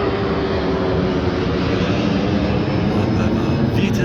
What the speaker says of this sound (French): Où il y a un avion qui décolle